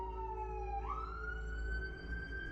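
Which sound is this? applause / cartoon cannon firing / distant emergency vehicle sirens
distant emergency vehicle sirens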